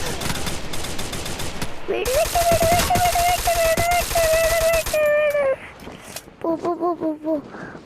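Video game gunfire aimed at the player: loud, close rapid bursts of machine-gun fire with clattering shots, a sustained wailing electronic tone over the middle stretch, and a short broken volley near the end.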